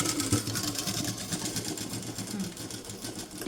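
A sewing machine runs steadily, its needle chattering in a fast even rhythm while stitching a folded blouse collar, close and continuous.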